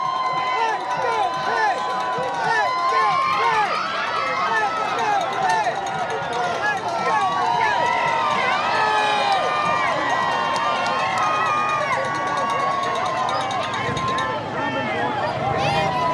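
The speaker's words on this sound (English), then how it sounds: "You can hear the crowd." A large crowd at the Pittsburgh Penguins' Stanley Cup victory parade cheering and roaring continuously from a distance, whistles and shouts rising over a dense babble, with a commentator talking over it.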